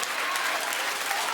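A studio audience at a daytime talk show claps steadily, a continuous bright wash of many hands at even loudness.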